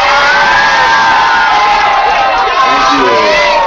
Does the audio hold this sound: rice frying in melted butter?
no